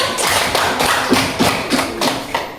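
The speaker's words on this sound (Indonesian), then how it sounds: "Beri aplaus untuk Hana dulu" A classroom of students applauds a classmate with a short burst of rhythmic group clapping and taps, close and fairly loud, lasting a couple of seconds with no talking over it.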